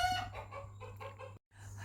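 A rooster calls close by in a short series of clucking, crowing notes over a steady low hum, cut by a brief silent gap before the calling resumes.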